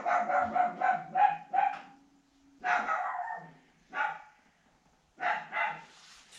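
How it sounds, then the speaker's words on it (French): A small dog barks in quick bursts, several sharp yaps in a row, then a pause and a few more barks, loud and close with nothing else around. "c'est un petit chien qui fait que aboyer pour rien"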